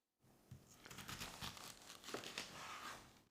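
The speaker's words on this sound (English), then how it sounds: "Now, I cut the fennel into 4 parts." A fennel bulb being cut into four pieces with a knife, heard as a faint, close crunching and crinkling lasting a few seconds, with no talk.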